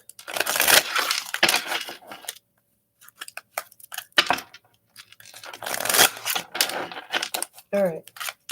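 Tarot cards being shuffled in a series of broadband rustling, riffling bursts, loud and close, with short pauses between rounds and a brief voice near the end.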